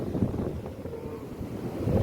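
Stormy sea with rough waves pounding under strong wind buffeting the microphone, a steady loud roar with no talking.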